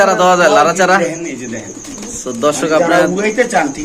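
Pigeons at a bird market coo in low, rolling, repeated calls close by, overlapping with people talking throughout.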